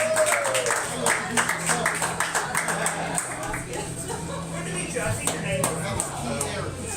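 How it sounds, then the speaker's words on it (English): A comedy club audience at a weekly comedy festival gives a modest round of clapping to welcome the host, with scattered claps continuing under a voice. "Please welcome your host for this evening, I guess, with a smattering of applause"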